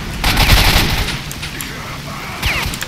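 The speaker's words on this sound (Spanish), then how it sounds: "si me están disparando" Bursts of gunfire in the shooter game S.T.A.L.K.E.R.: Shadow of Chernobyl, a dense crackling volley near the start and a shorter burst near the end, with a voice briefly over the action.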